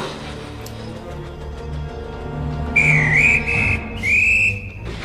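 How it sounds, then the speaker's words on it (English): A railway guard's whistle blows twice in quick succession, a shrill, wavering blast followed by a second one, ringing out over steady background music. "That sounds like a guard's whistle."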